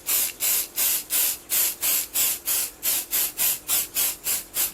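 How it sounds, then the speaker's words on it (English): Light-tack spray adhesive is sprayed onto a piece of plastic in about fourteen short, evenly spaced hissing bursts, close and steady, with no voices. "I'm going to spray this piece of plastic with it,"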